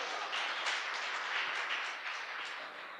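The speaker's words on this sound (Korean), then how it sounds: "박수 한번 더 주십시다" A church congregation applauding after a sermon, a steady, soft wash of many hands clapping at a distance, continuous and without voices.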